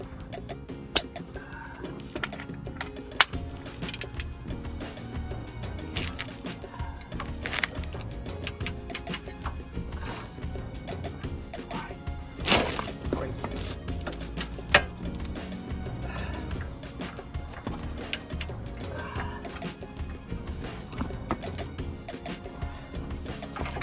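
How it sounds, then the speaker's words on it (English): A 22 mm socket on an extension working a coilover bolt loose, a run of fast mechanical ratchet ticks with occasional sharper clicks and knocks, close and steady for most of the stretch. "Now we are gonna use 22 to loosen the bolt with an extension"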